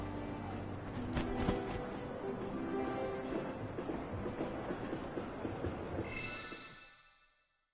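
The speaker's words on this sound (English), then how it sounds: "The last train's already left." A train rumbling past in Final Fantasy VII Remake, a loud continuous clatter and roar with rhythmic rail knocks that fades out near the end with a brief high hiss.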